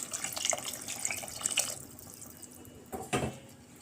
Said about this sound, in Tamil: அரிசி ஊற வச்ச தண்ணியும் நம்ம சேர்த்துடணும்.